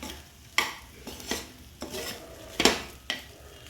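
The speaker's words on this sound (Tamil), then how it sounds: "நல்லா கிண்டி விட்டுருங்க." A spoon stirs millet poha upma with lemon juice and moong dal in a pan, a series of about six sharp scraping clinks against the metal at an uneven pace, close and fairly quiet.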